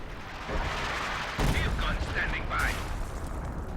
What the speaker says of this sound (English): ML20 just barraging this general area at the moment